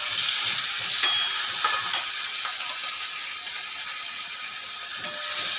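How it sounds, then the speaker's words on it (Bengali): Shrimp coated in salt and turmeric fry in a pan with crushed garlic, giving a steady bright sizzle and crackle with a few louder pops and stirring scrapes, and no voices. "মাছটা আমার হালকা হালকা ভেজে নিতে হবে।"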